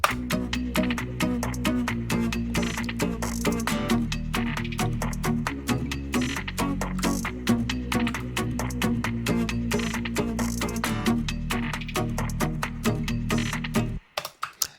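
A K-pop-style beat plays continuously with punchy rhythmic percussion over a sustained low bass line, cutting off abruptly near the end.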